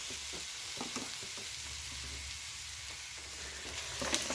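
A burger patty sizzles steadily on a grill after being flipped, a quiet continuous crackle with a few small pops and a faint low hum beneath, no talking.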